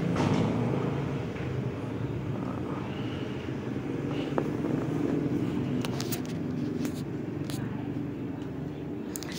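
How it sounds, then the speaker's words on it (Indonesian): A motorcycle engine runs with a steady, dense rumble after being reassembled with a new radiator and water pump. It holds a constant loud drone with a few sharp clicks, and a person talks over it. "Kita nyalakan motornya dulu."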